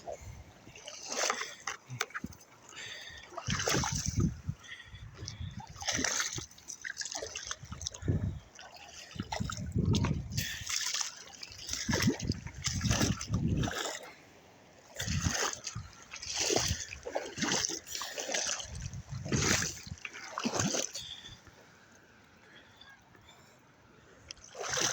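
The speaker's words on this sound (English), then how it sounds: "There's waves over there." Small waves lapping and splashing against a muddy shore, irregular wet slaps and trickles close by, fairly quiet, with no talk.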